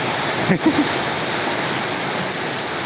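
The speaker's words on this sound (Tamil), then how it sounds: "இந்த அளவுக்கு மழை பெய்யுது பயங்கரமாக அடிக்குது" Heavy rain pours down steadily and loudly in a continuous dense wash during a downpour at home, with a few brief soft sounds near the start.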